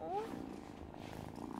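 A soft, low purr from a cat being petted in the video game Wylde Flowers, set in the woods, quiet and continuous, with a brief voice at the start.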